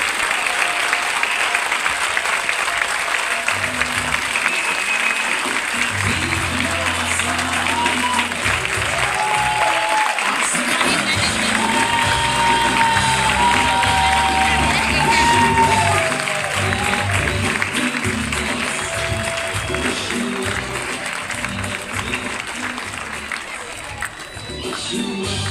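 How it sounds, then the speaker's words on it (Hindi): Large audience at a youth event in Kolkata applauds and cheers loudly, a dense, continuous wall of clapping with shouts and whoops over music-like tones, holding strong for the whole stretch. "ताली बजाओ, जोरदार ताली सबके लिए एंड मेक सम नॉइज"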